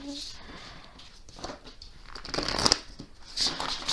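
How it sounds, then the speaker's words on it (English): Tarot cards shuffled by hand in a pick-a-card reading, giving soft riffling and patter that builds toward the end, under a speaking voice. "so shuffle one more time."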